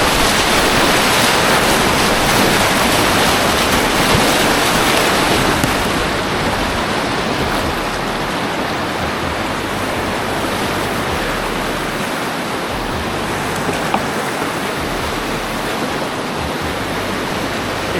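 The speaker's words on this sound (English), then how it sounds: "we like this little wave right here in the middle" Whitewater wave in the middle of a rapid on the Chattooga River, a loud continuous roar of churning water that stays steady throughout, close and unbroken, with no talking.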